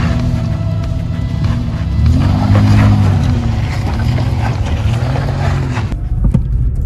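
An off-road vehicle crawls over rocks on a Big Bear mountain trail, its engine droning loudly and rising in bursts of revving with wind rumble, close and continuous until it cuts off near the end.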